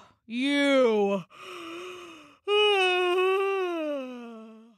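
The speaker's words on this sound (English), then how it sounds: "He yawned." A voice acting out a wizard's yawn in a read-aloud children's story: long, drawn-out vocal sighs that rise and then sag in pitch, split into two or three breaths, close and clear with no other sound.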